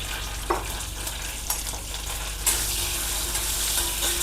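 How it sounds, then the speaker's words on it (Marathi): Cumin seeds sizzle in homemade butter, a steady close hiss that grows brighter and louder partway through, with a few light taps of a spoon. "आता याच्यामध्ये मी पाव चमचा जिरे घालते."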